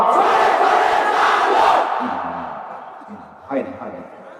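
A large crowd at a religious sermon roars a takbir response in unison, a loud sustained chant for about two seconds that fades, followed by a single voice speaking.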